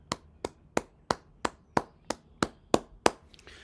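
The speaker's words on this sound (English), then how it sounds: "That requires another 3-second clap." Ten sharp, evenly spaced hand claps ring out alone at a steady slow pace, each crisp and moderately loud, spanning about three seconds with a faint tail at the end.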